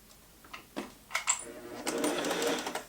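A Singer 401A sewing machine stitches in a burst that builds toward the end, preceded by a few short clicks and knocks as it is set up; fairly close and loud, with no voices.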